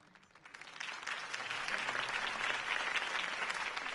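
A video game crowd in Batman breaks into sustained applause, swelling quickly and holding steady, heard at a moderate distance with no talking.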